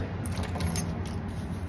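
Car keys jangle close by in a soft, continuous metallic rattle over low background rumble, with no talking.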